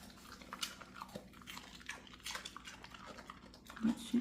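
A big red American Dingo crunches and chews a piece of celery up close, with soft irregular bites and wet mastication sounds at low volume.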